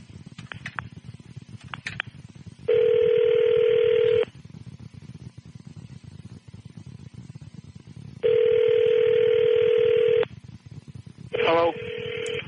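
Outgoing telephone ringback tone sounds in two long, even bursts separated by a pause, then a short tone at the end, while people talk continuously in the background.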